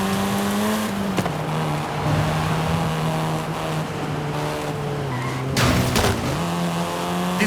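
Volkswagen Golf R engine in Forza Horizon 5, droning steadily close by with gear changes shifting the pitch and tires squealing as the car corners hard, with bursts of louder skidding near the end.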